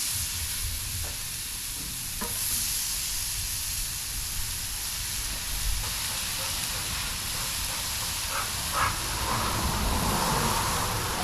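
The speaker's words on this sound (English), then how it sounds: "Listen to that sizzle." Steady loud sizzling of catfish frying in a hot pan, a continuous crackling hiss with a few sharper pops, no voices.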